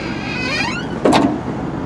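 On a 1995 Cadillac Sedan DeVille, the trunk auto pull-down closes with a rising electric motor whine, then a brief sharp latching thunk near the end, close and clear.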